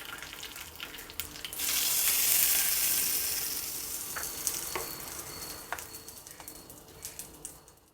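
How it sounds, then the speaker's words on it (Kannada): Mustard seeds and curry leaves hit hot oil as tempering for a fenugreek chutney, a sudden loud sizzle that gradually settles into softer crackling and scattered pops. "ಒಂದು ಒಗ್ಗರಣೆ ಕೊಡೋಣ ಈ ಚಟ್ನಿಗೆ. ಸಾಸಿವೆ, ಕರಿಬೇವಿನ ಸೊಪ್ಪು ಅಷ್ಟೇ."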